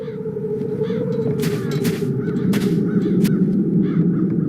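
Crows caw repeatedly in the video game The Dark Eye: Chains of Satinav, several harsh calls over a loud, steady low rumbling ambience, without talk.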